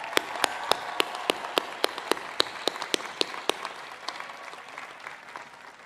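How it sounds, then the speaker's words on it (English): A commencement crowd at Miami University applauds graduates' supporters with a wash of clapping, topped by one sharp nearby clapper whose regular claps come fast and then fade as the applause thins out. "give a big, enthusiastic round of applause for all of those who have helped you get through your journey here at Miami"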